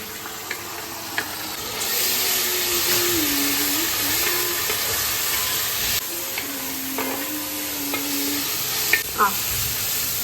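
Green chillies and ginger-garlic paste fry in a pan for a vegetable biryani, a steady hiss and sizzle running throughout with occasional clinks of stirring.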